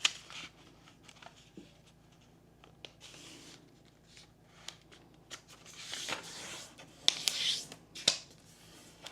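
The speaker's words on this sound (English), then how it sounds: "we're just going to fold all these up" Paper vellum envelopes being folded by hand, giving soft crinkling, rubbing and creasing sounds with occasional crisp snaps, close and quiet.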